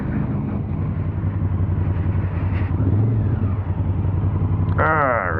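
A 2019 Honda Africa Twin's engine rumbles steadily through clutchless downshifts, a loud close drone with shifting pitch and a brief rising whine at the end, heard from the rider's position with wind noise.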